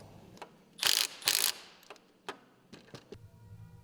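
A ratchet tightens the front limit strap onto its clevis on a Polaris RZR RS1, giving two loud, close bursts of rapid clicking followed by a few isolated softer clicks.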